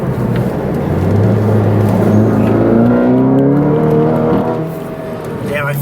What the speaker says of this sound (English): I feel like your exhaust is too loud for us to hear the turbo.